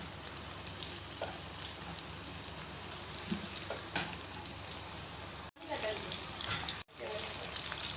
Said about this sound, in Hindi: आलू जो है वो थोड़े थोड़े फ्राई होना शुरू हो गए हैं।